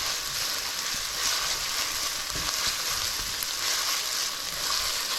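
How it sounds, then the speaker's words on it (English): Onions sizzle steadily in a hot pan for Hungarian meatballs, a close, even, bright frying hiss with occasional small crackles and no voices. "Just going to finish sauteing these onions."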